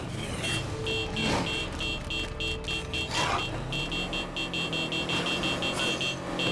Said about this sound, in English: honk our horn and just lure them away